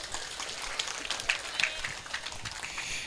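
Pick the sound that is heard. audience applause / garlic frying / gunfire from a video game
audience applause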